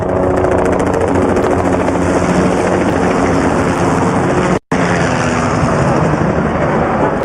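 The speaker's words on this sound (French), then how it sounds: "Donc on a la formation Malo avec 2 hélicoptères Bell 505" Two Bell 505 helicopters fly in formation during a Senegalese Air Force military parade, giving a loud, steady rotor and turbine roar with a brief dropout partway through.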